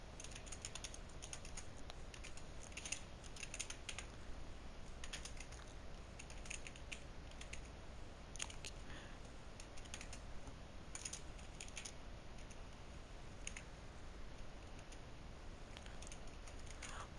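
Typing on a computer keyboard, quick irregular clicks and clacks of keys in bursts, faint and close, over a quiet room hum with no talking.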